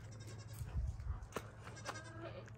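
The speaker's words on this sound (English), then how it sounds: "Kenai, what do you think of the goats?" Goats bleating nearby, several short cries overlapping against a low background hum.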